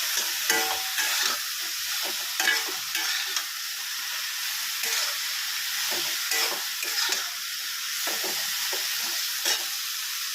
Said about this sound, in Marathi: त्यानंतर आपण नमक टाकून घेणार आहोत, तेही चवीनुसार। छान असं मिक्स करून घेणार आहोत।